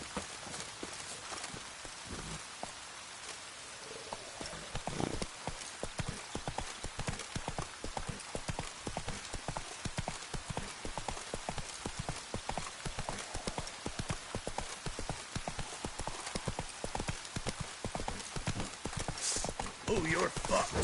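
Horse hooves clip-clop at a steady walking rhythm in The Witcher video game, loud and close, continuing without a break over faint ambient game sound.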